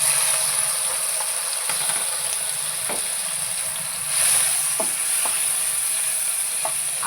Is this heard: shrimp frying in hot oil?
yes